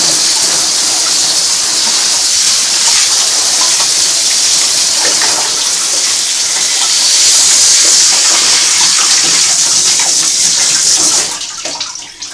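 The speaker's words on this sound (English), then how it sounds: "In this position I can do another better rinsing of the bottom area." Water gushing steadily from a tap over the main body of a Singer Model 503A sewing machine, loud and continuous before tapering off near the end.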